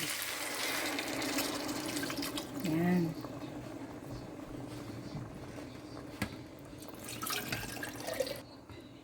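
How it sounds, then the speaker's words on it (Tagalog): Running water flows steadily into a pot while making chicken arroz caldo, with a brief voice partway through and a faint clatter near the end. "Now, mag-add na tayo ng tubig."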